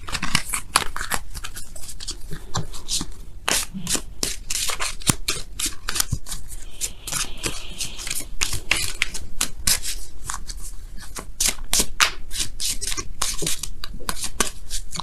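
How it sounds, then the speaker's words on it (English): A deck of oracle cards is shuffled by hand, producing rapid, repeated riffling flutters and soft slaps close up, continuing steadily with no talk. "now we're going to go ahead and pull you guys your oracle cards for the week"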